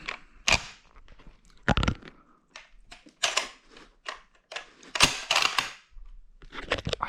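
An old, nearly 70-year-old SKS rifle fitted with a scope being cocked, giving a handful of sharp metallic clacks and slides up close with brief quiet gaps between them.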